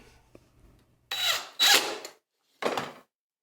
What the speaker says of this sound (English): Secure the hardware cloth with lath screws.